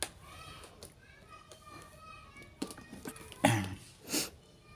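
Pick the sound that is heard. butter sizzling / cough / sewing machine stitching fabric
cough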